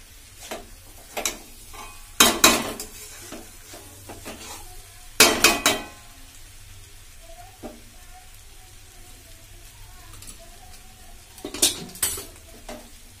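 Peas and chicken mince being stirred and fried in a pan: bursts of utensil scraping against the metal come in several separate strokes, over a soft background sizzle.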